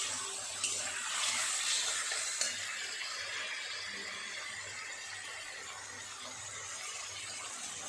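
Water is poured into a pan of spiced, fried potatoes for a vegetarian dhokar dalna and meets the hot oil. It makes a steady, moderately quiet hiss and sizzle with faint stirring for several seconds.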